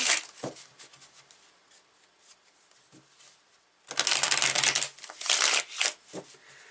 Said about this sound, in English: I'm going to start shuffling this.